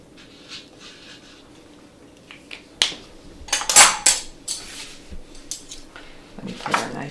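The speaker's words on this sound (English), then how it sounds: "Let me put our knife and fork into our little pouch, and then they go on our table setting" A metal knife and fork clink against each other and against glassware as they are set out on a table, in sparse, sharp, close taps and rattles.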